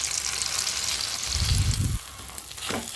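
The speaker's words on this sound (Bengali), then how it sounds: "এখন এটা হালকা আছে একটু ফ্রাই করে নিচ্ছি।" Leftover roti frying with egg and vegetables in a pan, a steady close sizzle with a louder burst of crackling midway, then a lighter hiss and a brief scrape at the end.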